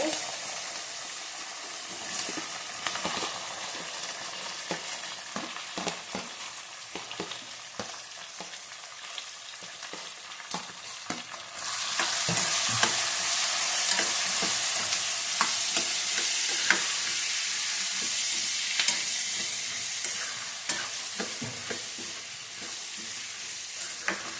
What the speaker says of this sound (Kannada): ಈಗೇನು ಈರುಳ್ಳಿ ಫ್ರೈ ಆಗಬೇಕಲ್ಲ